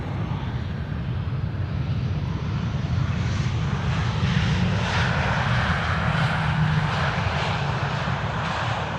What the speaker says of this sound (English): And that's the 737 that you're hearing.